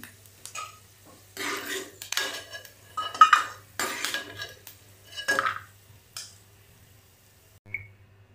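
Roasted peanuts being scooped out of a pan while making rava upma, with several bursts of metal clinking and scraping against cookware, then a short faint clink near the end.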